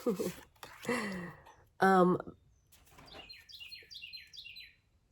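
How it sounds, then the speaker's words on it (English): A person talks up close at first, then small birds chirp in quick repeated tweets in the background, faint but clear. "you can hear me still through the birds chirping outside"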